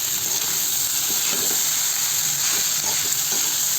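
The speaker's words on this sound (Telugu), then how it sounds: "ఇడ్లీని దీంట్లో వేసుకోవాలి. వేసి బాగా కలుపుకోవాలి." Leftover idli crumbles are stirred in a hot pan for idli upma, with a steady loud sizzle and hiss throughout and faint stirring scrapes beneath it. Nobody speaks.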